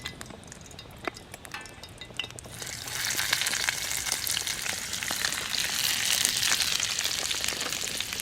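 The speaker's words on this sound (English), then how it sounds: "Let's get these spam balls in here." Spam balls dropped into butter in a pan on a double burner gas stove, a few clinks and taps giving way to loud, steady sizzling and crackling that continues close up without talking.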